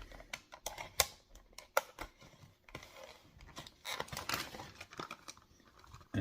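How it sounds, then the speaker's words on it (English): A blade slices open a Hot Wheels cardboard blister card, giving soft close scratches, taps and crinkles in an uneven, stop-start pattern, quiet and with no talking. "I'm going to slice this carefully because I keep these cards."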